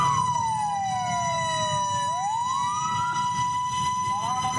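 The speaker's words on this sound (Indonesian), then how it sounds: "Damkar Kota Depok berpacu dengan waktu di tengah kemacetan saat menuju lokasi kebakaran." A Depok city fire engine races through congested traffic toward an apartment fire at Margonda Residence, with its loud wailing siren rising and falling in long sweeps. A low rumble of traffic runs underneath.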